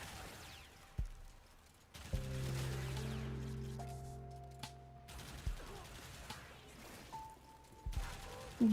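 Rapid bursts of weapon fire in Warframe, clusters of sharp shots with mechanical clanks and a sustained tonal hum between them, moderately loud with brief pauses.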